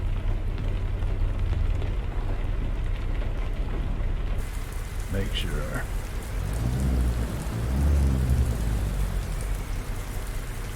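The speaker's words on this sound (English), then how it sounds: "it would be raining" Steady heavy rain hisses throughout while a deep roll of thunder rumbles in the middle of a truck-driving video game; a voice speaks briefly.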